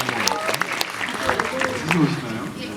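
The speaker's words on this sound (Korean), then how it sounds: "박수 부탁드릴게요." Audience applauding a surprise guest at a film talk event, moderate clapping under ongoing voices.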